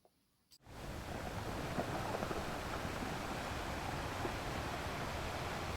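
Kutralam waterfall in South India pours with a steady, loud, broadband rush of water that begins abruptly after a brief quiet moment and holds unchanged, close and continuous.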